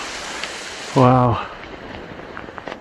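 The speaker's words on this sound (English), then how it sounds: "Piss and rain, absolutely piss and rain." Heavy rain outdoors on a hilltop in Schaffhausen canton, Switzerland, a steady close hiss of downpour throughout, with one short spoken exclamation near the start.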